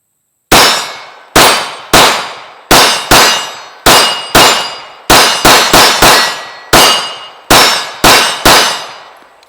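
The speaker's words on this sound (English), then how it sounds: "there is another round with both guns, and I tried to shoot a little bit faster on those targets this time" CZ P-01 and Sig P229 Legion pistols fired at an outdoor range, a rapid series of about fifteen loud, sharp close shots in quick irregular bursts, each with a short ringing decay.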